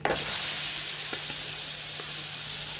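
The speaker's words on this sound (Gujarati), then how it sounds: "આપણે પહેલાં ડુંગળી સોતે કરીએ" Onions sautéing in oil in a pan, an intense close sizzle that bursts in at once and holds steady with a few faint clinks, no talking.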